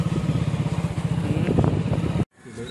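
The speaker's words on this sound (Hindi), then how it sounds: "डॉग्स के सामने आकर हमारा बाइक थम गया है" A motorbike engine idles close by with a steady, chugging low pulse for about two seconds, then cuts off abruptly and leaves faint background noise.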